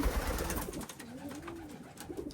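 Young racing pigeons coo in a loft, soft rolling coos repeating close by over light background noise, with no talking.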